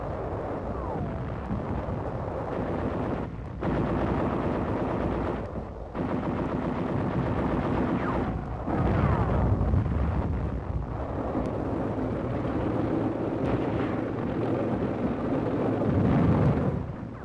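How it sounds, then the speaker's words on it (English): Mortar and gunfire during WWII urban combat at Intramuros, the old Spanish walled city, with infantry and tanks advancing: continuous heavy firing and booming blasts, with short pauses between bursts. "Mortar observers direct fire on Jap positions as infantry and tanks advance against Intramuros"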